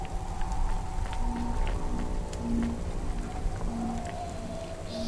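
Steady rain falling in the video game Cloudpunk, a constant patter with soft tonal hums and pulses layered beneath it, with no voices.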